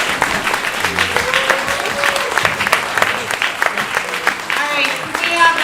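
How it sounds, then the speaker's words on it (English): Loud, sustained audience applause at a gubernatorial candidate forum in New Jersey, dense clapping with cheers and voices mixed in throughout. "can we have a standing applause?"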